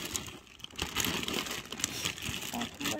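Plastic vinyl sheeting crinkles and rustles steadily as it is washed by hand, a continuous close crackling texture with no talking.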